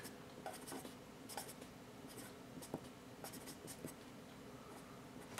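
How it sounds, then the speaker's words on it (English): A freshly sharpened long-point pencil writes on paper with quick, faint scratching strokes in short bursts, close but very quiet, with no talking. "let me just go ahead and write it up here"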